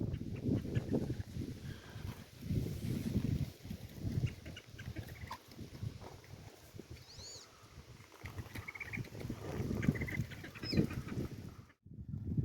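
Ducks and geese quack and honk together in a small duck pen, a constant chorus of calls from nearby birds with occasional louder honks.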